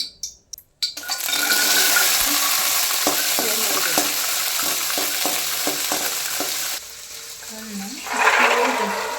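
Oil sizzles loudly and steadily in a pan while cooking for a lentil sambar with green chillies, with light stirring clinks throughout and a brief louder burst of frying near the end.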